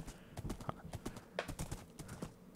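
Horse hooves clip-clopping in Minecraft, a quick uneven run of hollow clopping steps, fairly close and moderately loud.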